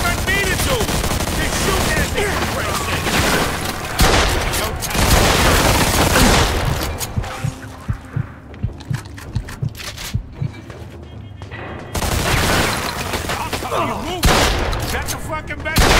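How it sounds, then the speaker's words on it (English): Gunfire in Mafia II, loud bursts of machine-gun and pistol fire with booming shots, a rapid run of single shots midway, then heavy fusillades resuming, with shouting voices over it. "They shoot at me!"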